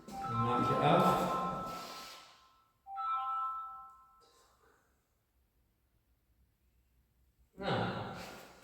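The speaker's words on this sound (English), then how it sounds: "And that's my phone." A mobile phone ringtone plays in a workshop while a 1:50 scale model wind turbine is being assembled; it sounds as a short tonal ring of a couple of seconds, then breathy noise, with a later burst of ringing and someone talking nearby.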